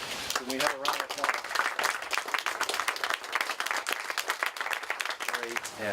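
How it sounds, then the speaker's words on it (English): Audience gives a round of applause at an outdoor land trust gathering hosted at a private home, steady dense clapping throughout with a voice briefly heard over it near the start and end. "Can we have a round of applause?"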